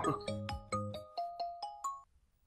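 A ringtone on a mobile phone in a Konkani comedy skit, a rising series of bright electronic tones repeating roughly every quarter second for about two seconds, fairly faint, with no speech over it.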